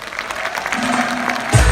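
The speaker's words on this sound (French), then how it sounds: "Et on applaudit Franck Dubosc" A cinema audience at a film premiere at Kinepolis Lomme applauds Franck Dubosc, dense steady clapping under a low hum for under two seconds, ending in a thump.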